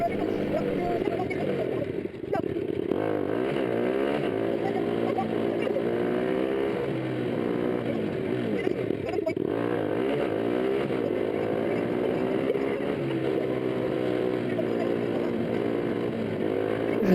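A 50cc moped pulls away and keeps riding, its small engine droning continuously up close with wavering pitch as the throttle rises and eases, a brief dip just after the start.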